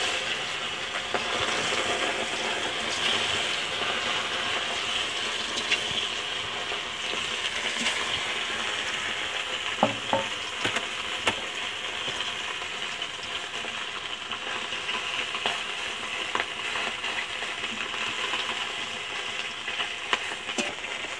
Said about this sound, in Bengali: কড়াতে এখন আমি তেল দিয়ে দিচ্ছি। আর মাছগুলো এখন কড়াতে আমি উঠিয়ে দিচ্ছি।